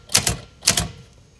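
A typewriter under repair testing is struck with shift and Q, giving two close pairs of sharp mechanical clacks about half a second apart, loud and near with nothing else over them.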